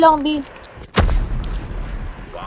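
A gunshot from the video game Call of Duty Mobile cracks sharply once, followed by a rumbling tail, with brief voice-like tones just before it.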